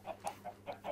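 A Minecraft chicken on a fenced chicken farm clucks in a quick run of five soft, evenly spaced clucks, with no other sound around them.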